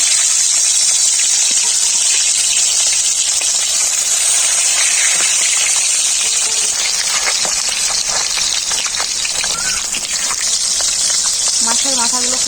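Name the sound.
fish heads frying in mustard oil in a wok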